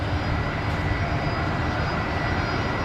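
A QantasLink Embraer 190 jet arriving on runway 19 left at Brisbane Airport at night, a steady broadband engine roar that holds at an even, fairly loud level throughout with no talk.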